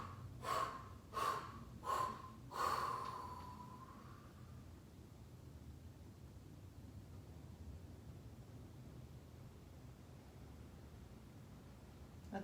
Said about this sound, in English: Now we're about to fold forward and exhale out of the mouth. This time do it in 5 short breaths.